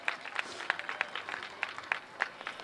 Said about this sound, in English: Can we have a round of applause for our Guild program?